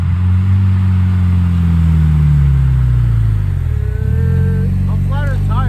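A Mitsubishi Evo X GSR, long abandoned and with rust on its pulleys, idles with a steady low engine drone that dips briefly near the end, joined by faint chirps and a short spoken phrase.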